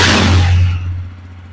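A nearby 2023 Jawa 42 motorcycle engine revs with a loud burst, then the revs drop away into a lower, fading rumble.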